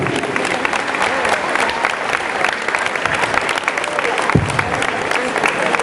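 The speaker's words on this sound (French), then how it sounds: "On va lui faire un tonnerre d'applaudissements." A large audience at a Montpellier town hall celebration in a Zenith hall breaks into loud, sustained applause, a dense wash of clapping with crowd noise that holds steady throughout, with a brief low thump near the end.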